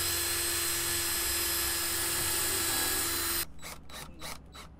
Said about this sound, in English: you may need to drill a hole first, a pilot hole